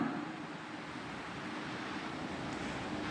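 Fried potatoes go into sizzling spice masala in hot oil for egg and potato dum, giving a continuous, even frying hiss throughout, with no talking.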